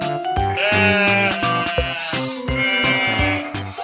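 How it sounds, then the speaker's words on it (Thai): A flock of sheep grazing at the foot of a hill, bleating loudly with wavering cries over a steady rhythmic musical backing. "ทุกวันเขาจะพาฝูงแกะมากินหญ้าที่เชิงเขา"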